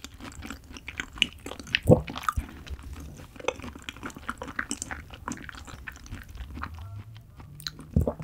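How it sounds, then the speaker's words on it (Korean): Close, soft chewing and biting of sea urchin roe mixed into beef brisket yukhoe, with moist squishy mouth sounds and a sharper crunch near the two-second mark, heard alone without talk. "이렇게 계란 노른자 대신 성게를 한번 비벼 먹어보고 싶었거든요"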